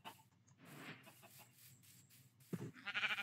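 A Minecraft sheep bleats near the end, a short wavering baa over low background clatter and faint ambient noise.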